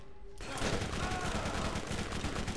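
Rapid sustained automatic gunfire in the video game Borderlands, a dense, loud stream of shots that kicks in abruptly after a brief quiet moment and continues without pause.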